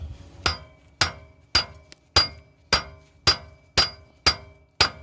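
A hammer strikes the outer side of a car's outer tie rod end about ten times in a steady rhythm, each blow a sharp, close metallic clink with a short ring.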